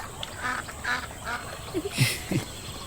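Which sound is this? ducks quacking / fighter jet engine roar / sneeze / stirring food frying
ducks quacking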